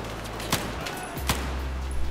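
Scattered gunshots in the Battlefield 4 campaign ring out against a steady background of battle noise, with two sharp cracks standing out and a few softer shots around them.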